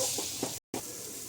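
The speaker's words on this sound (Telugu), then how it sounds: "కొద్దిగా మనము పచ్చి వాసన పోయేంత వరకు లైట్గా ఫ్రై చేద్దాము" Onions and turmeric fry lightly in a pan with a steady close-up sizzle and a few soft stirring scrapes. A brief silent gap breaks it midway.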